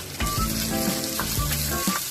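Onions sautéing with crispy bagnet pork in a kawali, a steady close sizzle with a few stirring scrapes and clinks of a utensil over about two seconds.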